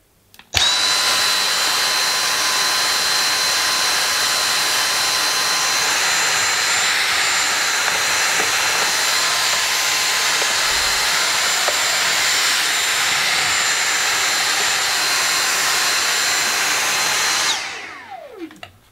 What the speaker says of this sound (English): I'm just going to get a little vacuum, actually, to remove this off here